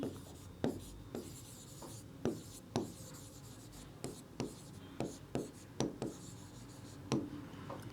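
Chalk or marker writing on a board during a school lesson, a series of short scratchy strokes and taps in an irregular rhythm, close and fairly faint with no talk over it.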